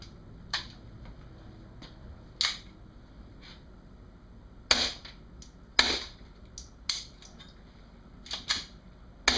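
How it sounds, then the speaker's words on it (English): CCI Mini-Mag .22 rounds fired through a wet suppressor, about nine sharp muffled cracks at irregular intervals, clipped and fairly close against a quiet background with no talking. "CCI mini mags, wet can."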